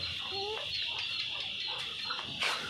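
Chickens cluck close by inside a pigeon coop, short clucks and a brief rising call scattered over a steady background hum.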